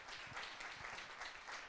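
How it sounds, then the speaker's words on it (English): An audience applauds a panel at a public discussion on banking. The clapping is faint and distant, a short, even patter of many hands. "can we give a round of applause to our wonderful panel?"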